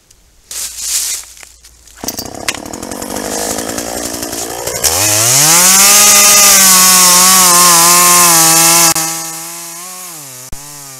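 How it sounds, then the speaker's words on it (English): A chainsaw idles and revs, then roars steadily at high speed while cutting, loud and close, before dropping back to a lower rumble. "I turned down the sound of the chainsaw."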